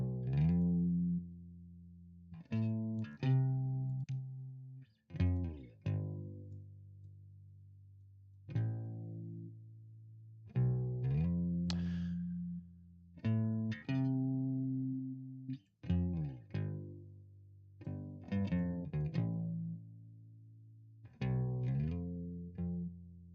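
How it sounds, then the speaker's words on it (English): Bass guitar played through effects such as chorus, separate plucked notes and short phrases ringing out and decaying, with pauses between, clean and close with no talk. "let's check out the bass now"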